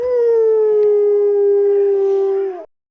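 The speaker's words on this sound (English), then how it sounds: "their howls go from simple whimpers to moving melodies echoing through the forest" A young wolf pup, between eight and sixteen weeks old, gives a single loud, sustained howl, a steady melodic tone lasting nearly three seconds before cutting off abruptly, heard close and alone.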